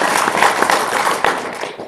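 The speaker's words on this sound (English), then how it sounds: "So give her a round of applause real quick." An audience claps in a round of applause at a quantum technology talk, a dense burst of hand claps that thins out and tapers off within a couple of seconds.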